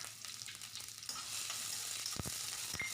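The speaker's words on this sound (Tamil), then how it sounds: "வெங்காயத்தை போட்டு நல்லா வதக்கணும்." Chopped onions sauté in oil in a pan, a soft hiss that swells into a fuller, steady sizzle, with a couple of brief stirring scrapes near the end.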